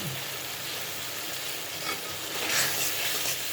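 Roast masala with garlic and ginger paste being stirred and fried in a pan for a Bengali milk roast, giving a steady close sizzle with soft scraping of the spoon and no talking.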